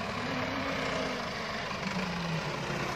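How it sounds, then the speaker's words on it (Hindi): Farm tractor idling at a village work site, a steady low engine drone with a faint tonal hum, fairly quiet and unbroken, with no voices. "और ये जो है ये हमारा अपना ट्रैक्टर लगा हुआ है।"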